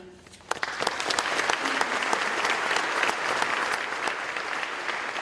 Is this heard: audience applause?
yes